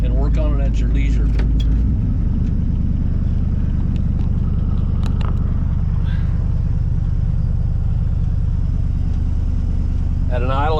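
A 1963 Ford Falcon engine idles with a steady, low, even rumble that settles into a smooth drone after a brief shift at about two seconds, with a voice heard over it near the start.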